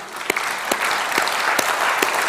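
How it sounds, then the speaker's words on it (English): Audience at a business awards event in Kolkata clapping steadily throughout, a dense wash of applause with a few sharper, louder claps standing out every half second or so. "So we will clap. Come on."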